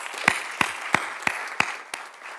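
A small audience at a report launch on Mumbai's open spaces claps in sparse, evenly spaced beats, about six distinct claps a third of a second apart, fairly close and fading at the end.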